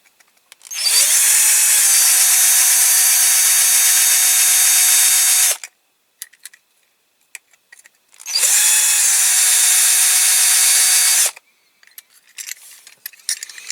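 A power drill bores out the rivets holding the base on a Matchbox Kingsize Scammell Tipper K-19 model in two loud, steady bursts of about five seconds each, separated by a pause with small handling clicks.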